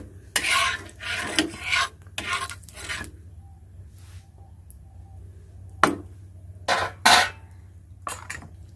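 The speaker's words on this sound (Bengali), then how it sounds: "তেলটা ভালো করে এইভাবে নাড়াচাড়া করে নেবে দেখুন" A utensil scrapes around a pan while oil is stirred on the stove, giving rasping strokes in short bursts separated by quiet pauses.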